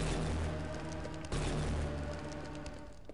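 Rocket explosions from rocket jumping in the Brutal Half-Life game, a steady crackling rumble of blasts with one sharper burst partway through, fairly quiet and without speech.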